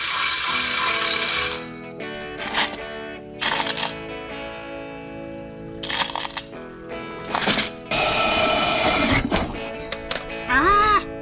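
A ratchet socket wrench clicks in short bursts while a sink is reassembled in a camper being prepped for a trip, with several quick ratcheting runs separated by pauses and brief handling noises, close by and fairly loud.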